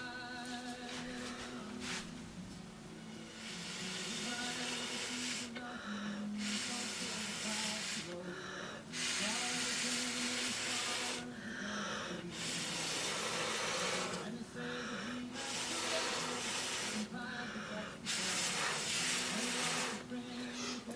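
Someone blows through a straw to mix paint for a black and gold pour, producing repeated breathy hisses in long bursts separated by short pauses, close and fairly loud.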